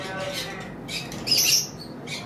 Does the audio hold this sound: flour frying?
no